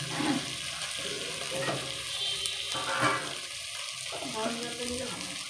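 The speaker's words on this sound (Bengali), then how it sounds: "পরিমাণ মতন আমি জল দিয়ে দিচ্ছি" Water added to a thin Bata fish curry in a hot pan, a soft sizzle and bubbling under intermittent talk, fairly quiet and close.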